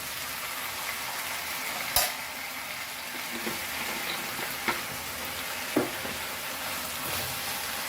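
Beef fried rice sizzling and frying in a pan over high flame, a steady hiss with a few sharp clinks and scrapes of stirring, close and fairly loud with no talking.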